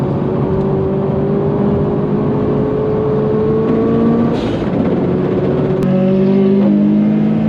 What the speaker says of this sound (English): some of these Porsches sound so good